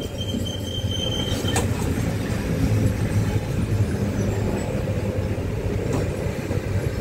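Passenger train number 56305 from Nagercoil to Thiruvananthapuram North arriving at Eraniel railway station in Kerala: a loud, close, continuous rumble of rolling wheels with brief squeals and clanks, and no talking.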